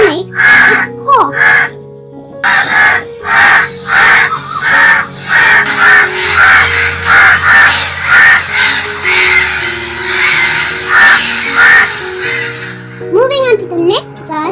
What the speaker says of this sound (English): The sound that a crow makes is caw.